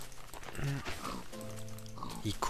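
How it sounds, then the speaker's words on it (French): Pigs oinking in Minecraft, a few short grunting snorts scattered under someone talking excitedly over them. "Oh, il y a vachement beaucoup de cochons."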